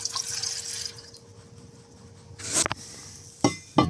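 Cold water is poured into a cup with a soft trickle that fades, then a few sharp clinks and splashes follow near the end, close and fairly quiet.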